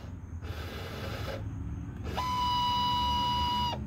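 A small electric power mirror motor on a 1987 Chrysler LeBaron Turbo Coupe whirs in short bursts, the last one longer with a rising tonal whine when adjusting to the right, close by and fairly quiet.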